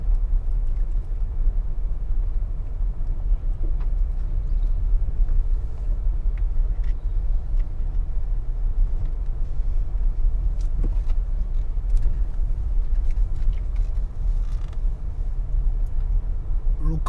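A car drives along a rural road in Westmoreland, Jamaica, heard from inside as a constant low engine and road rumble with occasional small bumps and rattles, steady and fairly loud throughout.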